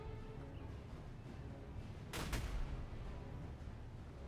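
Troops open fire in the strategy video game Master of Command, Commonwealth Army campaign: a single sharp burst of gunfire or cannon fire rises midway over a steady background battle rumble.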